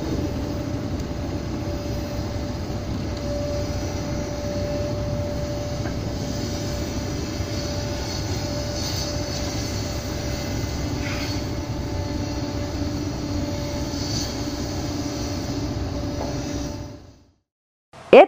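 Steady rail noise of a steam locomotive passes at an even, moderately loud level for about seventeen seconds, with a faint tonal whine, then cuts to near silence.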